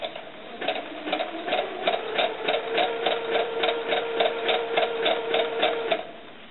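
A sewing machine stitches fabric for a doll sun dress, running in a steady rapid rhythm of needle strokes for several seconds, close and clear with no talk.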